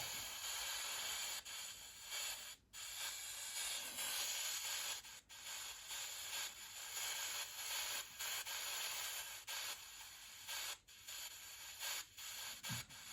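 Steady broadband white noise hisses from an EVP enhancer, loud and continuous with brief dropouts every few seconds, with no voices.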